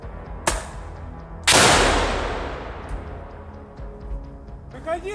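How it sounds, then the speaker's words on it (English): Gunfire in a close-quarters trench firefight between Ukrainian and Russian soldiers: a sharp single shot, then a much louder blast that rings out and slowly decays, followed by faint distant pops and a brief shout at the end. "the Russians threw a grenade and a brief firefight broke out"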